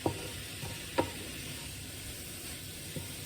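Shepherd's pie filling sizzling steadily in a pan while being stirred, with a soft continuous fry and a few light scrapes of the spoon, fairly quiet and with no talking.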